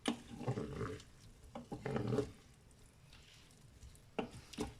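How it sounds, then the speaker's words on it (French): Veal ragout with onions being stirred in a Cookeo multicooker: a few soft scraping and squishing strokes of a spoon through the pot, quiet and close, separated by brief pauses. "je mélange tout ça"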